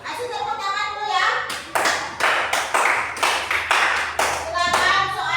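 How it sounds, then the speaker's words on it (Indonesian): A class of schoolchildren claps hands for a group heading to the front to present, a burst of rhythmic, fairly close clapping that swells and fades in waves, with children's voices chattering over it. "Kasih tepuk tangan dulu ya"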